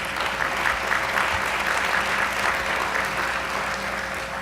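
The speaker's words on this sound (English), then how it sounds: "give yourselves a round of applause" A crowd applauds steadily at a year-end speech, a dense wash of clapping that holds at an even level throughout.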